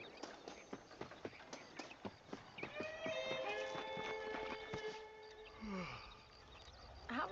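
Horse hooves clip-clop at a steady riding rhythm in the video game Red Dead Redemption, close and distinct at first. They are then joined by a sustained tonal musical or whistling sound and faint background noise.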